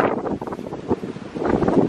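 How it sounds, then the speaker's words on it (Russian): Strong gusty wind roars steadily across the microphone as a storm begins, swelling and easing in broad surges that stay loud throughout, with no talk. "но ветер дует"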